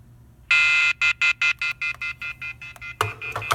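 A dorm landline gives a long loud tone, then a string of evenly spaced electronic beeps that grow shorter, ending in harsher off-hook howler bursts; close and with no voices.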